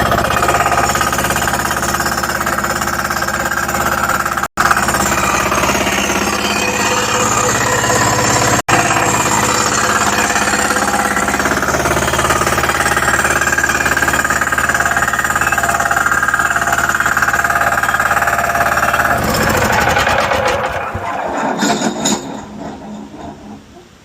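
A Rhino remote-controlled mower's engine runs steadily as it warms up, a loud, rough, rattling drone close by with a knocking texture, before it tapers off toward the end.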